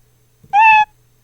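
A single short cartoon cat meow sound effect from a Scratch program, a clear tonal cry lasting about a third of a second and then cut off abruptly, with near silence before and after.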